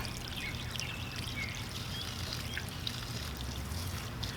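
Cold water pours steadily from an outdoor tap through a hose connector, a continuous broadband rush with a faint splashing trickle, close and unbroken without talk.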